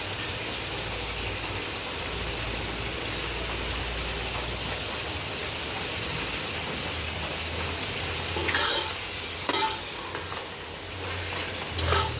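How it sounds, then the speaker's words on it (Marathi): Chicken biryani gravy sautés in a pan with a dense, even frying hiss that runs close and steady throughout, and a few louder stirring scrapes come near the end. "ग्रेवी छान परतून घेऊयात आपण"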